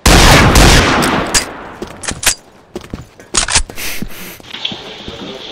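Close, heavy gunfire from high-recoil guns in the video game Combat Arms: a loud opening blast, then several sharp separate shots and short bursts with uneven gaps.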